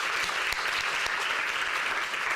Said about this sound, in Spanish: Nuevamente, que se siente ese aplauso